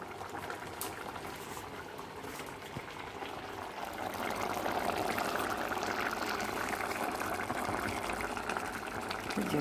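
A ridge gourd, potato and poppy-seed curry with lentil fritters bubbles at a boil, soft at first and then growing into a fuller, steady simmering gurgle about halfway through.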